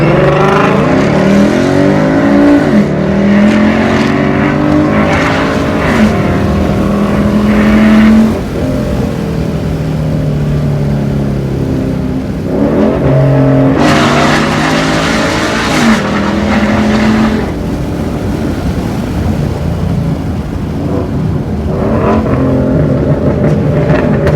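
A 2015 Ford Mustang with the 5.0 V8 roars loudly from inside the cabin during a ride along, revving and climbing through gears in repeated rising sweeps with brief dips between shifts and no talking.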